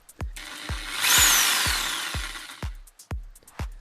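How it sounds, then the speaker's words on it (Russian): A power drill with a 13.5 mm bit whines up and grinds through plastic shock absorber bushings on a Bosch Classixx 5 washing machine tub for about two seconds, framed by a series of sharp, evenly spaced knocks. "высверлить пластиковые втулки амортизаторов из бака"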